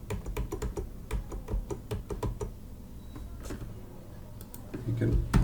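Rapid bursts of computer keyboard typing, crisp clicks in quick irregular clusters close to the mic, continuing under a speaking voice throughout.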